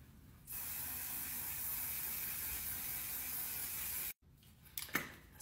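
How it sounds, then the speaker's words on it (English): An aerosol spray can lets out one continuous, even hiss for about three and a half seconds, then cuts off abruptly, followed by a few faint clicks and rustles nearby. "Okay, I'm gonna spray."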